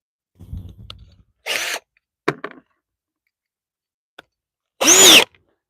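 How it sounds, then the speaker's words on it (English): A power drill drives a screw into shed lattice siding in short separate bursts, several quick whirring runs broken by silences, loud and close. "leave the drill bit and try to run a screw in there"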